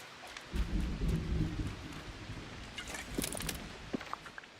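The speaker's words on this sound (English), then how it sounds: "I like the rain. It's pleasant. I enjoy the rain too." Rain and rolling thunder in the video game Disney Dreamlight Valley, a low rumble swelling early and fading under a steady hiss of rainfall with scattered droplet ticks.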